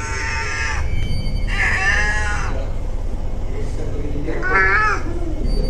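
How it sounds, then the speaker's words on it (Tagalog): A cat meows several times, drawn-out and fairly close, in a room of a haunted inn at night, with a low background hum between the cries. "Pinoprotektan tayo ng pusa."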